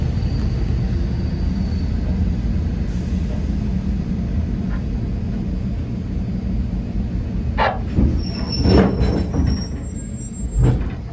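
A steady low rumble of a passenger train carriage rolling along rails on the Swan Hill to Bendigo line, with a few sharp metallic squeals near the end.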